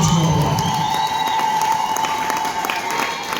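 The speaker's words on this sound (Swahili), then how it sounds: "Piga Bwana makofi mengi ya shangwe kwa jina la Bwana." A church congregation claps and cheers together in a loud, continuous burst of applause and shouting, with the crowd filling the space.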